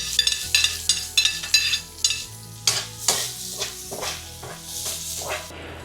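Garlic, onion and pork frying in a pan for hotdog spaghetti, with steady sizzling under repeated scraping stirs of a utensil against the pan, close and fairly loud, with no voices.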